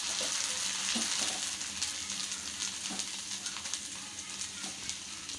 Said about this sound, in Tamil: இதே மாதிரி இன்னொரு செட்டும் போட்டு பொறிச்சு எடுத்துக்கிறோம்